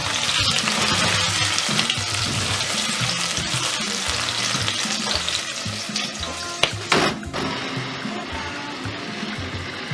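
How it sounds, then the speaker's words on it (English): Onions frying in a pan for a carrot stew give a steady, dense sizzle that holds at moderate loudness throughout, with a brief sharper clatter near the middle, and no talking. "Meanwhile, I'm frying my onions."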